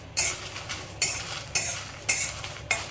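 Green chillies dry-roast in a kadhai as a spatula scrapes the pan in a steady rhythm, sharp bright scrapes about every half second over a faint background hum.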